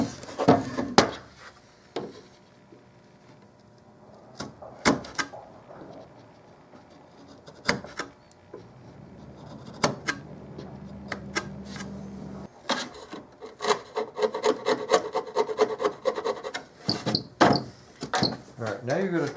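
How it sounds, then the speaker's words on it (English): A chisel scrapes and taps at the wood of an antique nightstand in short, scattered strokes and knocks, close by, with someone talking intermittently over and between the work. "Just take a chisel and clean that off."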